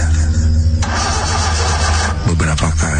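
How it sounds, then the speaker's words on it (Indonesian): A car that refuses to start, its starter cranking the engine steadily without it catching, heard under continuous talking. "Berapa kali pun kami starter, mobil itu tidak mau menyala."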